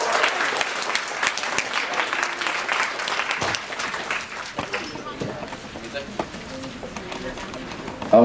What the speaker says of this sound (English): let's give a big round of applause for essay winners and our runners up